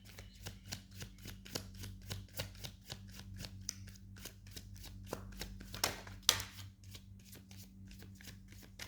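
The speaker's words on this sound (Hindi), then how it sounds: "एक बार और ज़रा सा मैं कार्ड्स को शफल करूँगी मैं।" Tarot cards are shuffled by hand at close range in a quiet room: a fast run of crisp riffling flicks, repeated rhythmically, with a couple of louder card slaps near the end.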